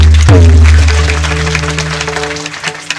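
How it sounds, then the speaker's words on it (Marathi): Applause from a kirtan audience, a sharp burst of clapping that starts loud and then tails off with a sustained harmonium-like drone continuing underneath. "यांना स्फुरण येण्यासाठी टाळ्या वाजवा सगळे"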